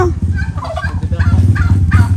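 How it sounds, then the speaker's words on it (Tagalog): Close, repeated low hissing and soft chattering calls from a Muscovy duck over a steady rumbling background, with no one speaking. "Muscovy-duck."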